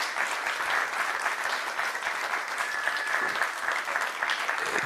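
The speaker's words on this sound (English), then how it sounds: "Let's give them a round of applause for keeping this mission and dream alive." Steady, dense applause from an audience at a book launch, filling the space evenly for several seconds with no one speaking over it.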